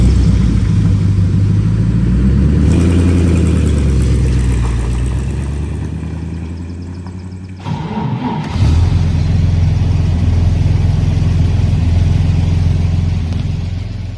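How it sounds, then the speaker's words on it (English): 1949 Chevy engine with dual straight pipes: a loud, close, deep exhaust rumble that dips briefly, then fires back up into a steady heavy idle. "I put duals on it to make it run cooler. And it sounds like a rocket when it starts."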